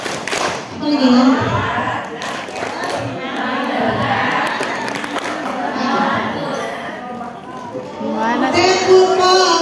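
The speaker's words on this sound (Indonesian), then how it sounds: "Tepuk fokus." A workshop group of teachers performs the 'tepuk fokus' focus clapping routine. Loud group voices chant in unison over a few sharp claps, with crowd noise throughout.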